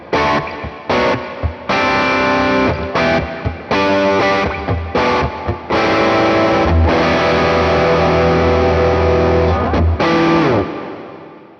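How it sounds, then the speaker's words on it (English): Electric guitar through a Morgan Amps Suite reverb pedal modelled on a famous 80s studio hall reverb, loud distorted chords struck in bursts with a lush wash ringing between them and a long tail fading at the end. "This is based on a very famous 80s studio reverb"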